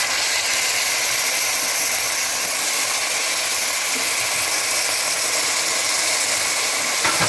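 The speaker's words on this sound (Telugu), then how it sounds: "ఇప్పుడు మటన్ వేసేయండి." Mutton dropped into a pan of fried onions, a loud continuous hissing sizzle that stays dense and even throughout.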